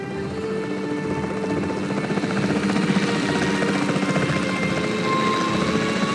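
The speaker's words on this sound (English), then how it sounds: "The priority needs to be tranquilizing it with the capture team chopper." Capture team helicopter in the video game Jurassic World Evolution 3, a steady loud rotor drone with whirring engine tones, continuous and close throughout with no speech.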